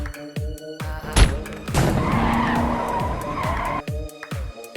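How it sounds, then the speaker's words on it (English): A car skids with squealing tires and slams into another car in a single crash, loud and close, with engine and tire noise running on after the impact. "The target's vehicle crashed into the adjacent car just as he calculated"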